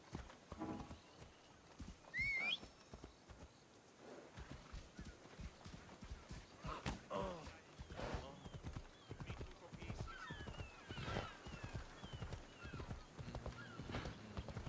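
A horse clip-clops at a steady pace in Assassin's Creed Odyssey, its rhythmic hoofbeats running throughout with a brief neigh early on, while a person talks over the game sound.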